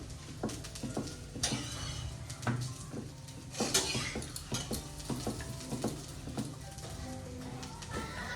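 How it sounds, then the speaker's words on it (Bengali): Paratha frying in a generous amount of oil in a pan gives a steady low sizzle, broken by frequent clinks and scrapes of utensils against the pan and dishes nearby. "পরোটাটা ওই ভাজছে"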